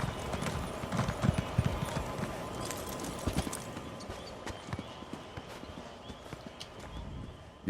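Horse hooves clip-clop in a steady trotting rhythm in the video game The Elder Scrolls Online, soft and close, with a faint background hum.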